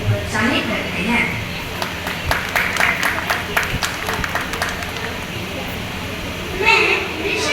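Audience applause at a school Mother's Day event, a steady wash of clapping from a crowd lasting several seconds, with a burst of louder noise near the end.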